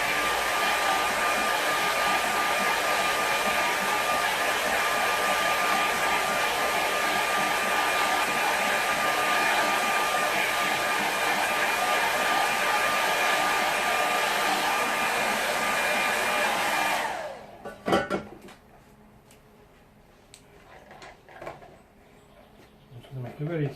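A hair dryer blows steadily and loudly for about seventeen seconds to dry a watercolour river-scene painting, then cuts off, leaving light handling noises and quiet room sound.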